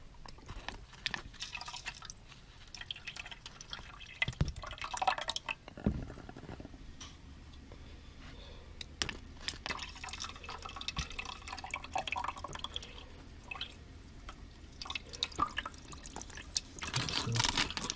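Water dripping and trickling from a sieve into a basin below while soil is washed outdoors, a steady patter of irregular drips and splashes with occasional louder pours and clinks, continuing throughout without speech.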